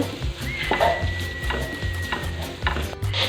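A carrot vada mixture made with pappadam is stirred in a pan over a soft frying sizzle. A spoon scrapes rhythmically and steadily at close range, with no talking.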